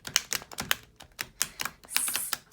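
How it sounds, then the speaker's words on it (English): A stiff new tarot deck being riffle shuffled by hand, giving a string of crisp, close card clicks and snaps in quick bursts, ending with a short flutter. "Let's see if I can get my hands around these for a riffle shuffle"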